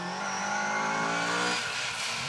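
Gilburn Invader rally car racing past on an asphalt stage with Protyre tyres, engine revving hard and tyres squealing, loud and close in a continuous rush.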